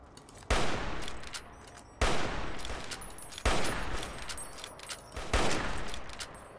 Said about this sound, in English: I shot an ant